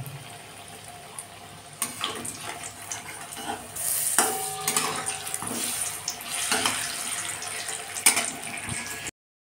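Continuous crackling sizzle of fish frying in hot oil in a wok, with occasional stirring clatter and bursts of louder spitting.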